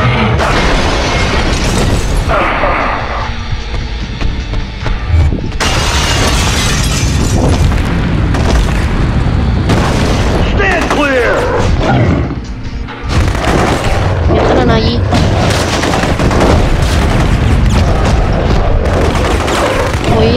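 Rocket launcher explosions and heavy booms in the Hulk 2003 video game, a loud, dense run of blasts and gunfire-like bursts over about twenty seconds with a brief lull near the middle.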